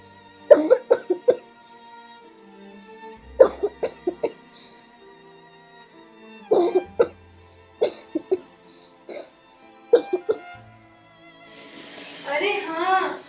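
A person coughs repeatedly in short bursts of three or four harsh coughs, close and loud against quiet surroundings, followed by a brief stretch of someone speaking.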